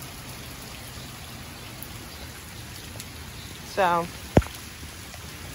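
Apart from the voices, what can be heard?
powerful rain from Tropical Storm Isaias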